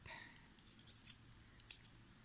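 Scissors snip through handmade textured paper in a quick run of sharp crisp clicks, several close cuts in a row, then a couple more after a short pause, in a quiet room.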